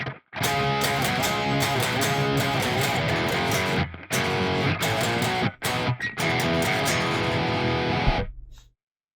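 Distorted electric guitar plays a full rock riff, loud and continuous, with a few short pauses and sharp muted breaks before it rings out and stops.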